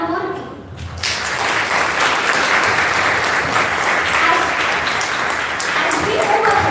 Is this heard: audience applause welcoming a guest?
yes